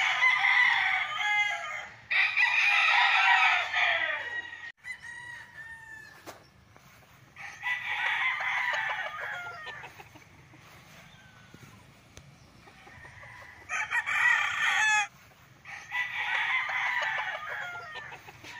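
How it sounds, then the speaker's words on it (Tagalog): Roosters crowing at a game farm where fighting cocks are trained, several long calls repeating in turn at moderate distance with quiet gaps between, and soft clucking in the background. "dito pala nagtitrain sila ng mga manok"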